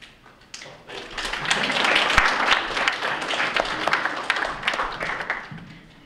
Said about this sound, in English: Just wanted to start the clapping for you.